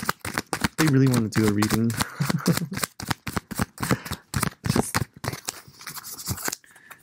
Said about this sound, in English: by the way it shuffles. It's really fluid and easy. You can hear that, right?